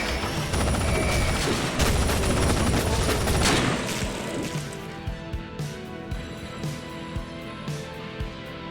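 Heavy crossfire from automated defenses in the video game Ashes Afterglow, a dense rattle of shots and impacts for about four seconds, then thinning out into scattered separate hits and thuds.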